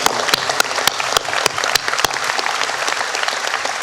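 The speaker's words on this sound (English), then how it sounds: "Let's give him a round of applause." A large crowd applauds outdoors at a college commencement ceremony, sustained dense clapping with a few sharp, close handclaps standing out above the steady wash.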